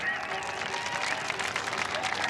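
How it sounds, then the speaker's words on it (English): A crowd applauds a ten-skier water-ski pyramid at the 1976 CNE Aquarama, a continuous mid-distance wash of clapping with a faint whistle or tone rising over it. "Nice round of applause."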